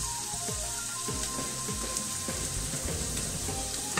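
Pieces of food browning in hot oil in a pan, a steady dense sizzle with crackling pops throughout, close and even, with no talking.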